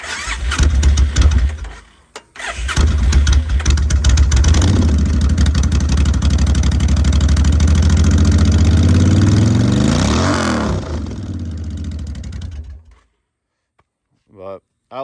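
A bobber motorcycle with short exhaust pipes starts up, cuts out briefly, then fires again and runs loud and close with a throaty idle and a rising rev before shutting off, followed by a few quiet sounds.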